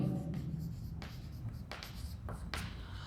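Chalk or marker strokes on a board during a maths lesson on functions, a few short scratchy bursts with pauses between them, fairly close, over a steady low room hum.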